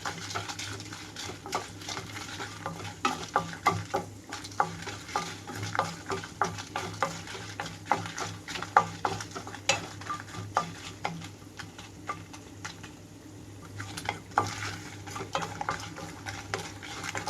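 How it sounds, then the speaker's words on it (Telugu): Dry red chillies fry and get stirred in a pan for a bendakaya pachadi, a steady crackling sizzle with scraping utensil strokes and clinks throughout, close and fairly loud with no talk. "రెండు నిమిషాల పాటు వేయించుకుంటే చాలు. ముందుగా ఎండుమిరపకాయలు"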